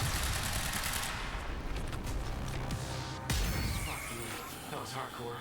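An enemy firing rockets during combat in Quantum Break, a dense, rumbling barrage with one sharp blast near the middle, loud and chaotic while a voice talks over it.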